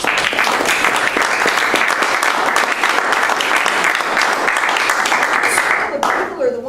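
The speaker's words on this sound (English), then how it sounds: "acknowledge all those people with a round of applause" A room of club members gives a sustained round of applause at a meeting, dense steady clapping that holds loud and even for several seconds before tapering off near the end.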